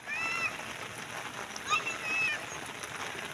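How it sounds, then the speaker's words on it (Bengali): Heavy monsoon rain falls on water where fishing nets are being set, a soft, steady hiss of patter with a few brief high chirps over it, fairly faint and continuous. "বৃষ্টির মধ্যে জাল পাততেছি কিন্তু আমরা ভিজা প্রচুর বৃষ্টি"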